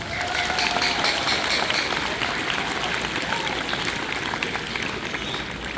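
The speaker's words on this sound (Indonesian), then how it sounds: "Tepuk tangan untuk kita semua." Sustained audience applause at a school address, a thick wash of many hands clapping at steady loudness, with crowd murmur mixed in, lasting the whole stretch.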